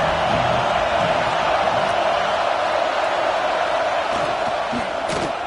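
An Auburn football stadium crowd roaring on third down, a loud, continuous wash of cheering and yelling that hangs steady throughout, with a broadcast voice faintly beneath.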